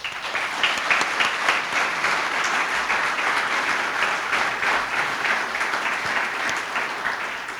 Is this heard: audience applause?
yes